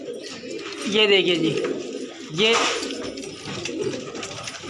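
Pakistani fancy pigeons coo in a couple of rolling, throaty bursts close by, while someone talks over them.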